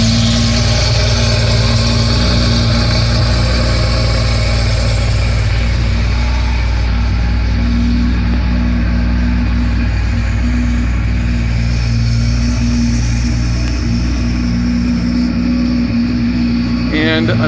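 A 1985 Porsche 911 Safari engine idles steadily after a cold start, a loud, continuous low burble with a deep throb that holds constant throughout.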